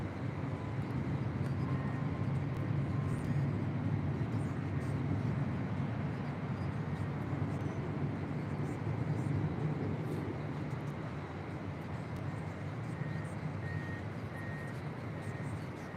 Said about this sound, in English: This is Air Canada Flight 553 departing to Vancouver on a 737 MAX 8.